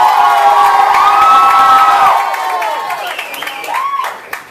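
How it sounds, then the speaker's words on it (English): Party guests at a sweet sixteen celebration in a Bronx banquet hall cheer, whoop and shout loudly at close range, with sustained high-pitched yells over scattered clapping that taper off after a couple of seconds. "Please, a round of applause, make some noise!"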